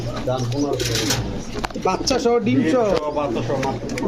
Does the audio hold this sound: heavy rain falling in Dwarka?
no